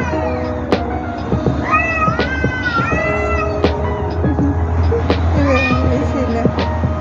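Several cats, two of them fighting, meow and yowl in drawn-out, rising and falling cries, overlapping one another over a steady low hum and faint background traffic.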